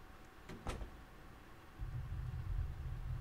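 A door opens in the horror game The Witch's House: two sharp clicks from the latch, then a low, steady creaking rumble as it swings.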